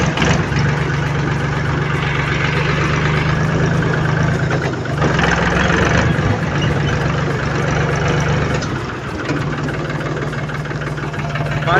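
A tractor engine runs steadily with a continuous low, throbbing drone and rattling vibration, loud and close, with small shifts in load.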